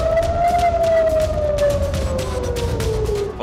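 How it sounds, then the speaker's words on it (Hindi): An air raid siren wails across an Israeli city, one long tone slowly falling in pitch, loud and sustained over a background of distant thuds and crackling. "बार बार सायरन की आवाज गूंजती है।"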